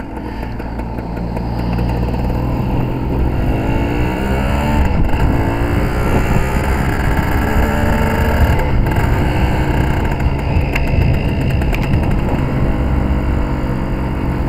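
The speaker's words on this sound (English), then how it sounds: "Usually two-stroke a little bit burbly when they're not under load. But as soon as you put it under load, it's lovely and torquey." A Suzuki TS185 two-stroke motorcycle runs on a road test, its engine a steady, loud burbling drone that rises slightly after the first couple of seconds and holds throughout, with no voices.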